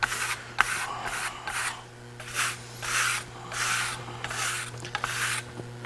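Excess lime paint being rubbed off a Marmorino Venetian plaster wall, a series of about eight close scrubbing strokes in uneven rhythm, each a brief hissing swipe over a faint background hum.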